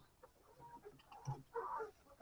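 Hens cluck softly in a few short bursts in a cold henhouse, with a louder cluck near the end, over quiet background noise.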